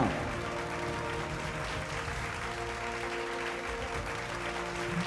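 Applause fills the hall at a Bhojpuri award ceremony, a dense, sustained clapping from a large crowd lasting the whole stretch at an even level, with no clear talk over it.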